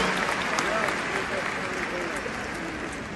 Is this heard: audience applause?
yes